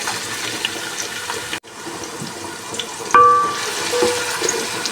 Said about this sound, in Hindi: 1 टेबलस्पून ज़ीरा ऐड किया, 1 कड़ी पत्ता, 1-2 सेकेंड तक इसको फ्राई करनी है।